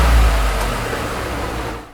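An Abarth 595 or 695 small hatchback engine revs with a deep, rumbling low growl, loud and close, then eases off toward the end with no talking.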